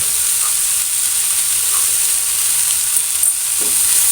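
Onion sautés with salt and turmeric in a pan, giving a steady, even sizzle and hiss that runs the whole time, close up, with only faint stirring clicks and no talking.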